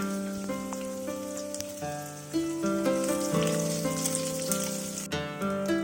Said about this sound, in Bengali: এবার কিছুক্ষণ পেঁয়াজগুলোকে লাল লাল করে ভেজে নেব